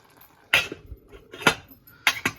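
A lid set on a cooking pot while tomato and onion soften, several sharp metallic clanks and rattles in separate bursts, close and clear with no talking.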